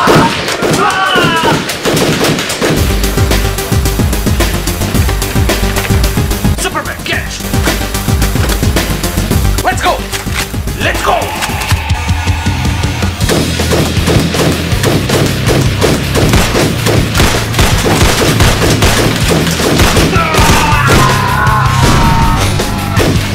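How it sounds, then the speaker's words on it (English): Nerf blasters firing during a superhero-themed Nerf battle, a busy, continuous stretch of rapid popping shots with yelling and voices mixed throughout over loud background music. "We are under nerf attack!"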